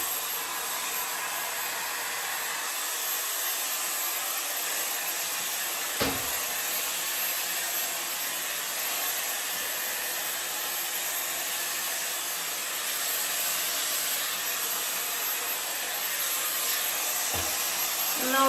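A Shark Glam hair dryer blows steadily on curly hair, a loud continuous airy roar that holds without pause, with a couple of faint handling bumps.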